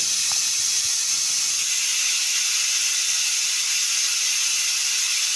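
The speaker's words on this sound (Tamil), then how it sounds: "குக்கரை மூடி அடுப்பில் வச்சுட்டு ஒரு 4 விசில் வர வரைக்கும் வேக வச்சு எடுத்துக்கோங்க." A pressure cooker on the stove, cooking rice and lentils for bisi bele bath, lets off a steady, continuous hiss of escaping steam that holds evenly throughout without voices.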